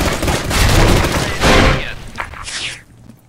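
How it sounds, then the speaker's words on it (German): A grenade explosion and bursts of gunfire in the video game Special Forces 2: heavy booming blasts and rattling volleys, loud and close, fading into scattered sharp cracks and then quiet. "Granate, Deckung!"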